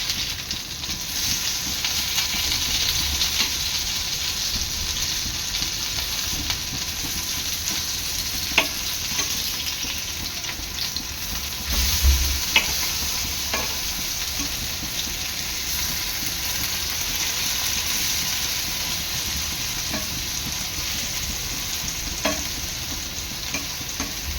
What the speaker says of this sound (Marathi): एक तीन ते चार मिनटानंतर भेंडी पलटून घ्यायची आहे दुसऱ्या साईडने